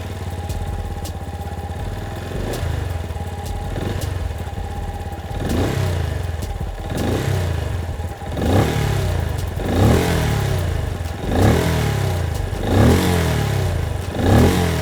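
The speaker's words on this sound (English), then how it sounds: "Benelli is known for making some sweet sounding machines, and the Imperiale 400 is no different. Let's check out its exhaust note." Benelli Imperiale 400 motorcycle idling with a steady thumping exhaust beat, then blipped in a series of evenly spaced revs that rise and fall, close and loud with no talk.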